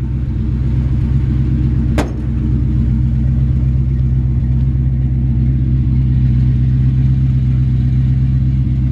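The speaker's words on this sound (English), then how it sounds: "Nice sounding Flowmaster exhaust." A 1956 Ford F-100 truck engine with a Holley 4-barrel double pumper carb idles while warming up, a deep, steady burbling Flowmaster exhaust rumble, loud and close, with one brief sharp click partway through.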